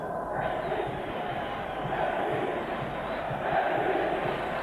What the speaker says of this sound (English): I think the crowd roaring with relief about that.